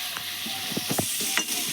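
Chicken fries lightly in a pan with a short burst of close sizzling and a few quick scraping stirs.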